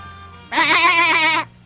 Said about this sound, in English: There's a goat in the middle of the sea, but its hair is all blue